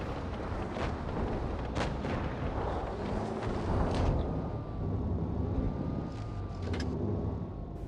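Booming tank cannon fire in World of Tanks during a tank destroyer match, with several heavy shots and rumbling battle noise over a dense continuous background, followed by a steady engine-like drone.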